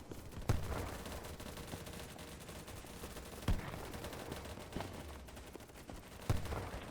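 Sporadic gunshots crack out over a dense, rumbling backdrop of battle noise in the video game BattleBit Remastered, with a few sharper bursts standing out every few seconds.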